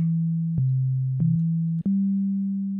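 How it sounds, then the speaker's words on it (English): A pure, smooth sine-wave tone from a Thor synthesizer oscillator in Reason 9.1, holding low notes and shifting pitch a few times with faint clicks, alone and steady. "And then a sine wave."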